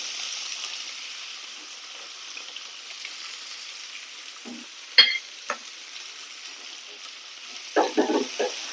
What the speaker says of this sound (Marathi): ही कांदे टाकते